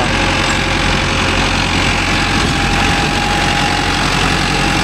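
A Mahindra Arjun Novo 605 DI tractor engine runs steadily and loudly close by, a constant heavy diesel drone with a rhythmic low knocking throb and no pauses, while working a rotavator.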